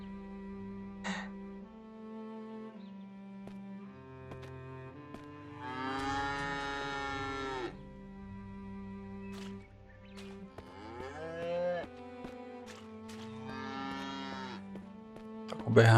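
Cows in the Drizzlepath video game moo in several long, loud, drawn-out calls, each separated by short pauses, with no talking heard.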